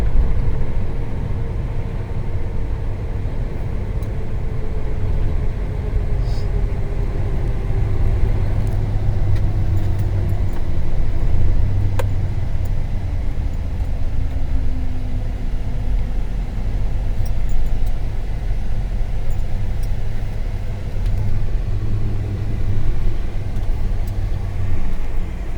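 Isuzu refrigerated cold plate truck driving along, a steady loud engine and road rumble heard from inside the cab, continuous with no talk.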